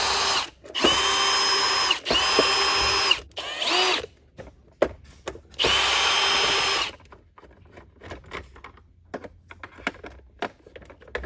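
A power drill backs screws out of the base of a Eureka Air Swivel vacuum, with several loud whirring bursts of a few seconds each separated by pauses, followed by quieter clicking and handling of the plastic housing.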